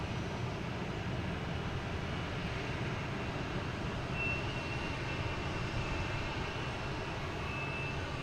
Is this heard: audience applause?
no